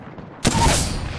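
Gunfire in the Apex Legends battle royale game: a sudden loud burst that breaks in after a quiet moment and rings on briefly with a dense, fading tail.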